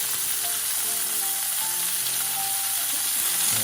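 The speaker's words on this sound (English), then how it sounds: "They're sizzling. They are sizzling. These sizzling garlicky shrimp." Garlic shrimp sizzle steadily and loudly in a hot pan, a dense, continuous frying hiss with no voices over it.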